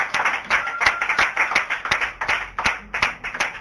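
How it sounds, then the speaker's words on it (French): A church congregation claps in a quick, sharp rhythm, the beats distinct and moderately loud with no talking over them. "Et tu vas donner une forte acclamation à l'Esprit de Dieu."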